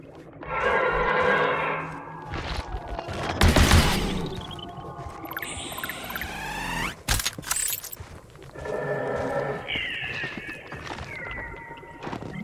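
Weapon fire in the sci-fi exploration game Journey to the Savage Planet: loud, close bursts of shooting sounds interleaved with game effects and strange creature-like cries, with a brief sharp blast near the middle.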